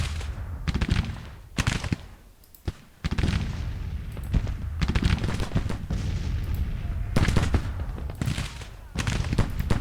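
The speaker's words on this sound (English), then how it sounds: "Over here our men are opening up on Johnson's detachment" Musket volleys from skirmishers in Grand Tactician: The Civil War crackle in repeated loud bursts, overlapping into a near-continuous rattle of fire with brief lulls.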